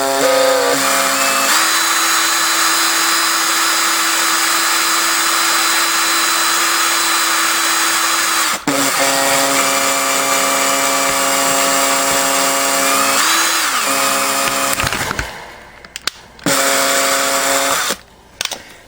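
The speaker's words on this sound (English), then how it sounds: "So using a drill here, I'm going to go ahead and just drill a hole through it." A loud electric drill whines steadily at high speed, dips briefly partway through, then ends with several short start-and-stop bursts.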